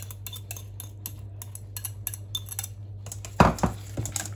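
Eggs and crème fraîche being mixed in a bowl with a utensil, a rapid run of light clinking strokes against the bowl, then a louder clatter near the end over a faint steady hum.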